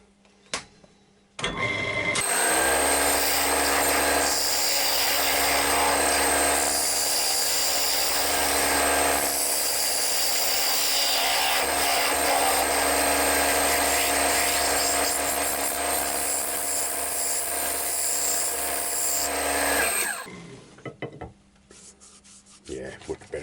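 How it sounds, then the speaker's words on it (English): A round carbide cutter scraping off-centre work held in a glue chuck on a wood lathe, producing a loud, continuous rasping whir with a humming motor for about twenty seconds, starting abruptly and fading out near the end. "I will start off then with the round carbide cutter"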